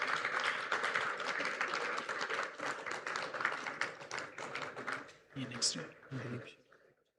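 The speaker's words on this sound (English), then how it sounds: "Please give a big round of applause for Dr. Baljit Singh." Audience applause at the CRITICON 2025 ceremony honoring a doctor, a steady wash of many hands clapping at moderate distance that thins into scattered claps and fades out, with voices mixed in.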